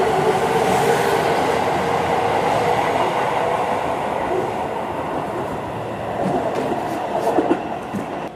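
A Keio Line express train bound for Shinjuku in Tokyo rumbles steadily along the rails, a loud continuous roar with faint clacking and a brief rise near the end.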